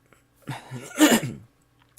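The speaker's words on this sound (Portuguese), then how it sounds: "Eu quero pedir desculpa pela tosse com os irmãos" A single rough throat-clearing cough rasps out up close, preceded by a brief breathy grunt, then quiet.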